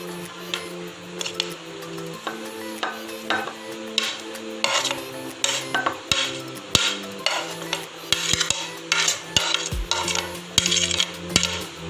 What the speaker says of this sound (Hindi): अब मैं इसको बोल में डाल रही हूँ।